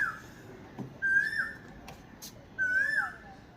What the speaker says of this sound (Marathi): बघा हे पण पक्षी आहे तुम्हाला आवाज बघा पक्ष्यांचा आवाज येत असेल